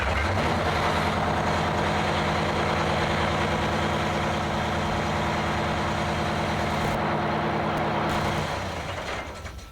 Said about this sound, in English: We have switches on the dash that allow me to start the truck.